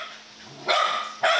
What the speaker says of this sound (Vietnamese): Em đang sủa nhiều đấy